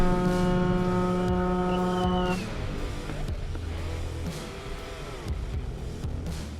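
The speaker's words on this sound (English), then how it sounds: "the horn heard in his dashcam footage was actually his, not the truck's" A Mini Cooper's horn blares in one long, steady, loud honk for about two seconds, followed by road and engine noise as the car drives on.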